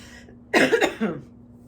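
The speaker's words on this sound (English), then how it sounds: "Excuse me as I cough." A single cough, fairly close, over a faint steady hum, then quiet.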